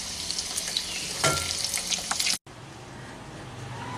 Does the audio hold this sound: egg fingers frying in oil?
yes